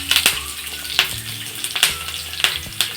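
Chopped onions and curry leaves fry in hot oil in a pan, giving a close, continuous sizzle with small sharp pops and crackles spaced through the few seconds.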